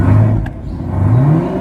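A 2024 Chevy Camaro ZL1 muscle car engine revs loudly and close by, its pitch dipping and then climbing again in a rising sweep, with no talking.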